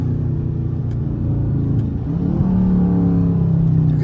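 Dodge Charger engine revving as the driver downshifts with the paddle shifters and brakes, a loud steady rumble that climbs in pitch partway through and holds a rising whine, with no talking.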